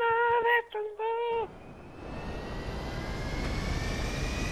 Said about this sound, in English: My jet!